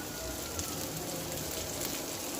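Beef mince tawa kabab frying in oil on an iron griddle, giving a steady, even sizzle that runs throughout with no pauses or talk.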